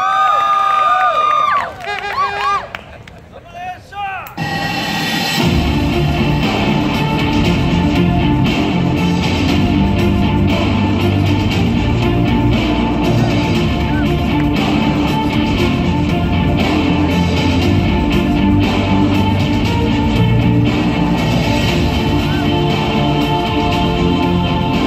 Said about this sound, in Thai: ขอเสียงปรบมือกับนักกีฬาด้วยครับ